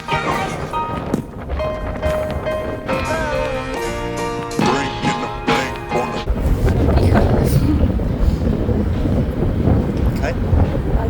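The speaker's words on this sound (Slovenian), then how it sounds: "It's a bit windy." Wind blows at an ocean beach near a hotel, rising in the second half into a loud, rumbling roar buffeting the microphone, after a stretch where voices and other sounds are heard.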